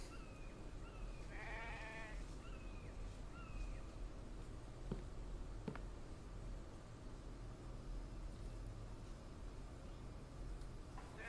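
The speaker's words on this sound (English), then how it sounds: "What the hell is a sheep doing out here in this woods anyways?" A sheep in the survival video game The Infected gives a few short bleats, a clear wavering cry near the start followed by fainter calls over a constant low outdoor rumble.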